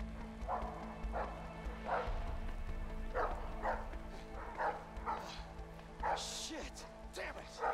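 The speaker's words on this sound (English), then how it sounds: "Oh, dog!" A dog barks again and again in short, sharp yelps about every half second to a second, fairly close, with people's voices mixed in.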